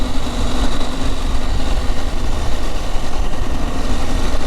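KTM 890 Adventure motorcycle engine on its stock exhaust, running with a steady, loud, close drone and a fast rumbling texture throughout, with no talking.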